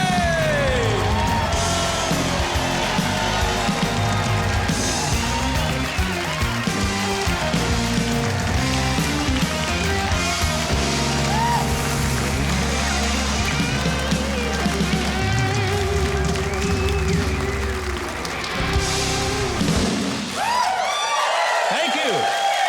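A studio audience cheers, whoops and applauds for Mike Huckabee at the start of his TV show while a house band plays loudly, the clapping and music carrying on steadily until they cut off near the end.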